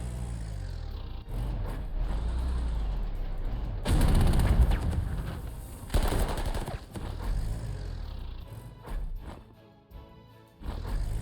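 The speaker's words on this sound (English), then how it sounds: "heavy artillery" Heavy artillery fire in the strategy game Panzer Corps 2, with booming blasts around the middle and a rumbling low roar between shots, moderately loud against a quiet game background.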